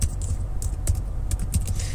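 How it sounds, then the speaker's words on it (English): Rapid, uneven clatter of keys on a computer keyboard as a terminal command is typed, close and steady with bursts of sharper clicks throughout and no voices. "that jumbled mess of me typing to get this simple stupid command in the terminal"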